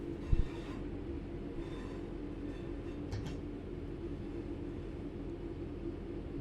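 A train runs downhill on the Glossop to Manchester line, heard from on board as a steady, even rumble of wheels on rails, with a short clunk near the start and a faint rattle later.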